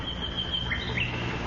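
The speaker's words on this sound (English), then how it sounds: "It's a nightingale, Mother" Nightingale sings a few thin, high, faint chirps and whistles over a soft steady background hum, heard at some distance, with no voices.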